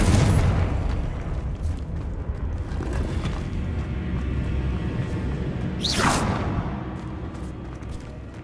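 Confringo blasting spell going off in Hogwarts Legacy, a loud continuous booming rumble with a sharp whooshing burst near the end, no talking over it.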